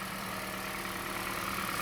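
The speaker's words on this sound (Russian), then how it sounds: "работает мягонько стал. Двигатель шепчет" A Toyota Noah engine idles smoothly after an EGR cleaning, a steady, quiet, even hum with no talk over it.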